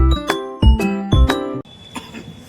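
A few bright chiming tones ring out in quick succession, each with a sharp attack and a short ringing decay, followed by a softer, fainter chime.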